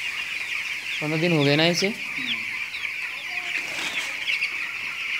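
Fifteen-day-old broiler chicks on a poultry farm let out a short run of close, high cheeping clucks over a constant flock hum, with someone speaking nearby.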